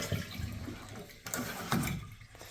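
A toilet is flushed just partway to test the float, with water rushing and gurgling in short close bursts as the tank drains and refills.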